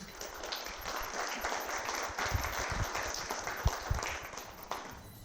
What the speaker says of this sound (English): let's clap the last group